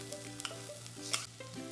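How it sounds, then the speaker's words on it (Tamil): Sprouted horse gram sautéing in a pan, with a close, steady sizzle broken by spoon stirs and light clinks over a low hum, and no voices. "இப்போ இது வதங்கிருச்சு, இது 5 நிமிஷம் வதக்கிக்கோங்க"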